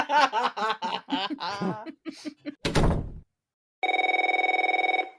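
A telephone bell rings in one sustained electronic trill near the end, loud and close, following voices talking and a sharp door slam, with a brief silence just before the ring.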